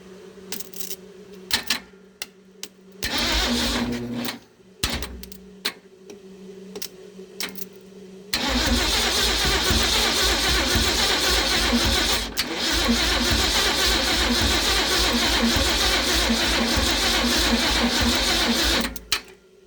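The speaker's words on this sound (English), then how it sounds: "attempt number 3 to get this engine started" A Ford 390 V8 engine, off the vehicle, cranks in stuttering bursts with pauses, then catches and roars into a steady, loud idle that runs on.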